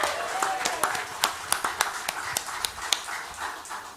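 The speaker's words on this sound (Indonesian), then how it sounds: "ini luar biasa tepuk tangan ini" A small audience at a regional election debate in Way Kanan, Indonesia clapping, scattered individual claps standing out over a steady patter, with faint voices mixed in.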